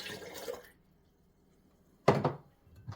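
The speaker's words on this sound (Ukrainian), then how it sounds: "Тепер я її виливаю в ємність." Salt brine for quick-pickled cucumbers is poured into a container in two short splashing pours separated by a quiet pause, close by, with no talk.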